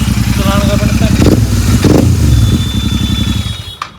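A Royal Enfield GT 650 motorcycle with a loud Gurusewak aftermarket exhaust idles and rumbles nearby with a deep, throbbing, lumpy beat, rising in a couple of blips before cutting off, while someone talks over it.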